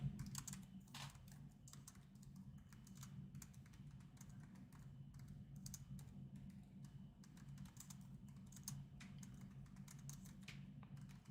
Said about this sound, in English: My one hand typing is elites.